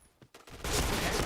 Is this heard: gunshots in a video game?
yes